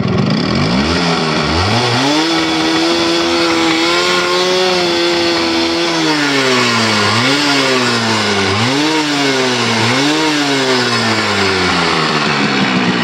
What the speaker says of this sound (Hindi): ओके स्टार्ट तो हो गया भाई, और अभी फुल रेप करता है थोड़ा सा।